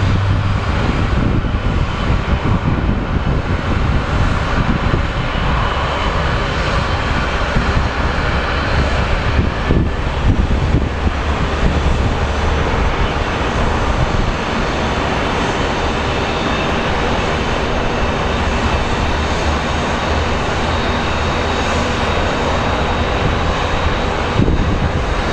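Small Embraer regional jet landing on a flight from Portland, a loud, sustained roar of engines and rushing air close by for the full length, steady and dense without a pause.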